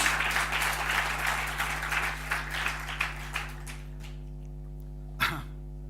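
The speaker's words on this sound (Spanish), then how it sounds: "alguien que le dé un aplauso a Cristo, el Señor" A church congregation claps for a few seconds during a sermon, the applause fading out over a steady low hum, followed by a short isolated sound near the end.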